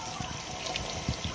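Water thrown out for chickens in a yard, a soft irregular splashing and trickling wash with a few low splats, faint and steady, no voices.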